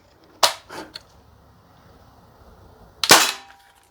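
A Crosman AK1 CO2 blowback BB rifle fires outdoors in semi-auto during a field test. Two sharp, loud cracks about three seconds apart each trail off with a brief rattle.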